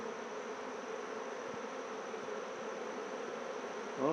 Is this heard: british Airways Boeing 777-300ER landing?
no